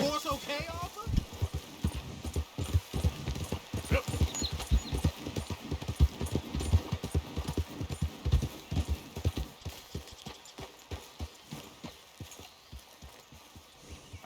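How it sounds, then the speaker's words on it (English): Steady clip-clop of horse hooves on hard ground in the video game Red Dead Redemption 2, fairly close, with people talking over it and a faint background hum. "Is that horse okay, Arthur?"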